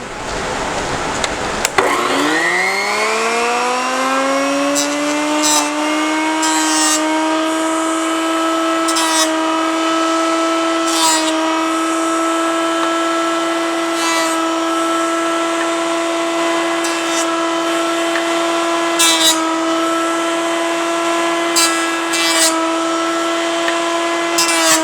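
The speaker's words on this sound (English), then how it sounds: "the next step is to use our planer and make the surfaces perfect" A power planer starts with a rising whine and runs loud and steady while smoothing the faces of large wooden dice, its tone shifting in brief bursts as the blades pass over the wood.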